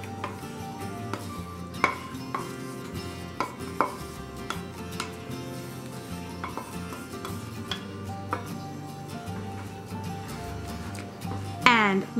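Tuna casserole with green beans, mushroom soup and cheddar cheese is mixed in a baking dish, with a spoon tapping and scraping the dish in irregular knocks under a steady, quiet background.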